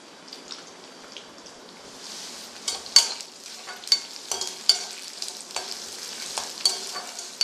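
Red chillies and chana dal fry in a pan with a steady soft sizzle, broken by irregular stirring scrapes and small clicks from the spoon. There is no talking.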